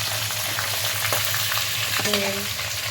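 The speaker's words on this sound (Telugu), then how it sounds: "మనం ముందుగా కట్ చేసి పెట్టుకున్న పచ్చిమిర్చి వేసుకోవాలి. ఆనియన్స్ వేసుకోవాలి," Green chillies and onions fry in a pan with a constant sizzling hiss, punctuated by a few light stirring clicks and a brief metallic ring near the end.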